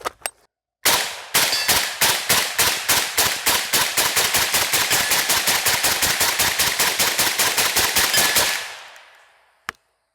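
A rifle fires through a YHM Titanium Phantom titanium suppressor in a long, fast, evenly spaced string of loud, close shots that ends abruptly, then a brief pause and one final sharp report.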